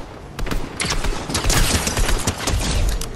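Rapid bursts of gunfire crackle in a Fortnite match, a dense, loud volley of shots in quick succession that keeps going to the end.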